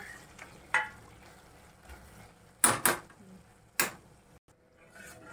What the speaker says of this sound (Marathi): हे बघा, आता परत एकदा असं परतून घेऊया.